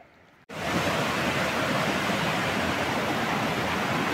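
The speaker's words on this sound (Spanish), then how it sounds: "Miren eso, el agua como va cayendo" A waterfall at Cozumelito in Allende, Nuevo León, bursts in after a brief quiet moment, then roars as a loud, dense, unbroken wash of falling water.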